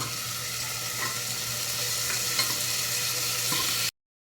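Washed potatoes, green peas and cauliflower fry in hot oil, a dense continuous sizzle with faint scraping as they are stirred, steady and close before cutting off abruptly.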